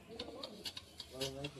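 An Old Madrasi pigeon, a single male held in a hand, gives a brief, faint throaty coo in two soft pulses, alone with no talk.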